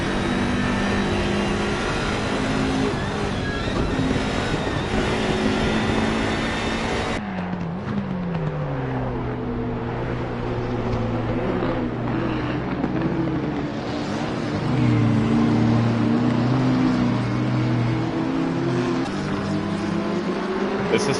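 Race cars at full throttle on a track, engines droning loudly and steadily with rising and falling pitch as they accelerate and pass, a sustained roar with an abrupt shift in tone partway through.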